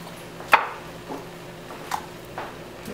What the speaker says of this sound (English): I'm going to use this paring knife to cut out the center of the bell pepper.